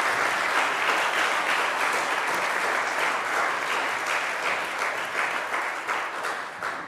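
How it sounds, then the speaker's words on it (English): A hall full of people gives a sustained round of applause at a Salvation Army band concert, dense, loud clapping holding evenly for several seconds before tapering slightly. "would you give him another round of applause?"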